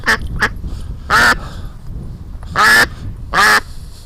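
A loud, nearby duck lets out a string of harsh quacks: two quick short ones, then three longer raspy calls spaced about a second apart, with nothing else over it.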